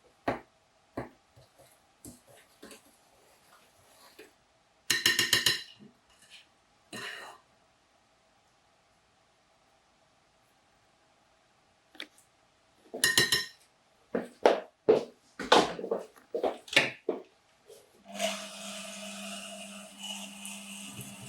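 A spoon clinks and scrapes against a mixing bowl as flour and baking powder are stirred into cake batter by hand, coming in scattered bursts between long quiet gaps, with some talking near the end.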